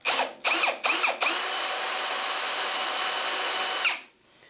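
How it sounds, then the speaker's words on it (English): A power drill runs in reverse to back out a stripped screw. Three short revving bursts come first, then one sustained loud whine that cuts off sharply at the end. "I've got the drill in reverse."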